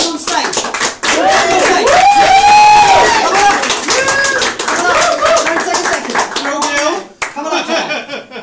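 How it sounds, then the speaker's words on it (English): Clapping from a pub audience at a magic show at the Priory Arms as a volunteer joins the stage, with someone speaking loudly over the applause throughout. "can everyone give her a round of applause to Jan as she comes joins us on stage?"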